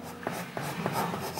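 Soft graphite pencil shading on paper while drawing a pepper: close, steady scratchy strokes with soft rhythmic swells, no talking.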